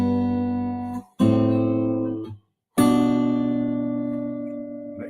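Acoustic guitar playing a walk-up riff as a few sustained, ringing chords. They come in three separate bursts with short silent gaps between them and let ring close up, with no talking.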